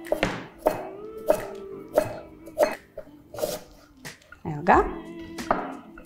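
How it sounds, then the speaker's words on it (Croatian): Peeled ginger root chopped into slices on a board, a steady series of sharp knife thunks about every half second, close and clear, with faint background sound between strokes. "džumbik smo ogulili i sad ćemo ga nasjeckati u ploškice koje smo rekli"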